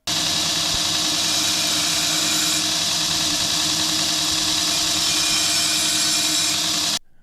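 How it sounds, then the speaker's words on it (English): A 2x72 inch belt grinder runs continuously at a loud, steady pitch, a dense motor and belt roar that holds for about seven seconds and then cuts off abruptly. "it just so happens that I have a 2x72 inch belt grinder"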